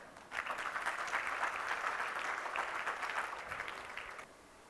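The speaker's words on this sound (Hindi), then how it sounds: "सभा के लिए जोरदार तालियां।" An audience at a seminar hall in Gujarat bursts into strong applause, dense clapping that starts abruptly, holds steady for about four seconds, then fades out.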